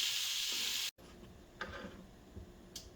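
Ground beef and onions cooking in a pan, with a loud steady sizzling hiss that cuts off abruptly, then continues more softly with faint crackles and light ticks.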